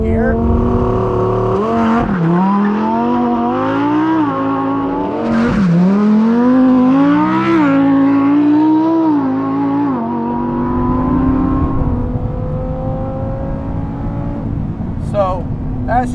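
Lamborghini Huracan STO launching hard with heavy wheel spin, its engine rising loud and close through rising gear pulls with abrupt pitch drops at each shift, then settling to a lower drone as a voice talks over it.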